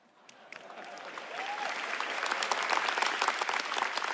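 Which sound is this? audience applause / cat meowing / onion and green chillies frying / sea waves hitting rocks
audience applause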